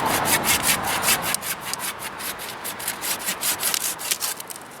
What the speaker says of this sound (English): Yeah, processing firewood.